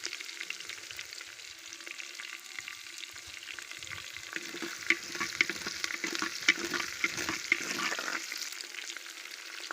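Onions frying in a heated clay pot for a Tamil kuzhambu, giving a steady crackling sizzle with scattered sharper pops that grow a little busier toward the end, with nobody talking.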